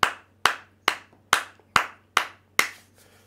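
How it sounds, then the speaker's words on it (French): A church congregation claps together in worship, seven sharp, evenly spaced claps ringing through the hall, each one fading quickly with a short reverberant tail. "Est-ce qu'on peut acclamer pour la gloire du Seigneur?"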